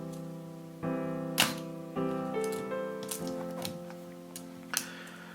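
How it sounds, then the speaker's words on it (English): A Minolta X-700 film camera shutter in bulb mode, heard as a few crisp mechanical clicks and snaps over a soft steady tonal hum, quiet and close. "In bulb mode, the camera will take a picture as long as you press the shutter."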